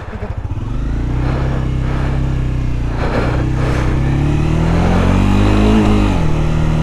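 Honda Grom motorcycle in a build with a swapped engine, running loud and close, its revs rising and falling in several sustained pulls with no pauses.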